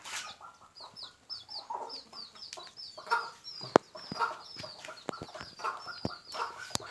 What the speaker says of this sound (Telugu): ఇక్కడ ముద్దు ముద్దు కోడి పిల్లలు ఉన్నాయి చూడు.